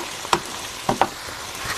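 Chicken tibs frying with tomato and onion in a pan, a low steady sizzle broken by a few sharp stirring scrapes and clinks, with no talk.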